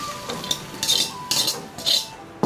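Fried bullfrog is tipped out of a wok to drain off the oil. Several close metallic clinks and scrapes of the wok and utensils come in a few bursts over a soft background.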